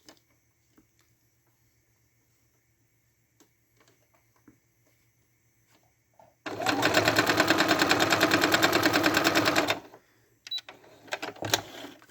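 A sewing machine stitches quilt pieces in one steady, fast whirring run of about three seconds after near silence, followed by a few light handling clicks and taps.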